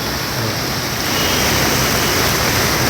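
A flooded river in Dapoli, Konkan, swollen by heavy monsoon rain, roars in a loud, constant rush of turbulent water, with no voices.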